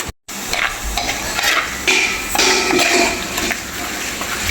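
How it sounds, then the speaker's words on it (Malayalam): Fish curry with turmeric powder just added is stirred in a pan, with scraping and clinking utensil strokes over a low sizzle. The sound is close and fairly loud after a brief silent gap at the start. "ഇതൊന്ന് ഇളക്കി കൊടുക്കാം."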